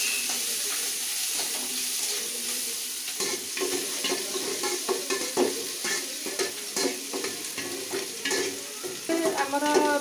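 Onions fry in hot oil for a vegetable ghanta tarkari, giving a soft continuous sizzle with irregular stirring scrapes and clinks close by, and a brief burst of running water partway through.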